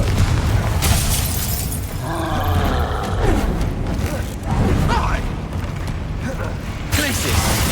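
A Confringo fire spell bursts in Hogwarts Legacy gameplay, a series of booming blasts and crackling shattering debris that recur across several seconds over a dense wash of combat noise, loud and close.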